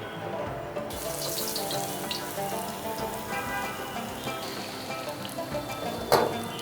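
Chopped garlic drops into hot oil for a fish steak and starts a steady, fairly loud sizzling hiss after a brief quieter start. The hiss runs on evenly with a sharp click near the end, and no one speaks.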